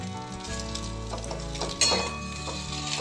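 Olives sizzling in a hot pan as sugarcane jaggery goes in, a steady close frying crackle with a brief louder burst partway through; no voices.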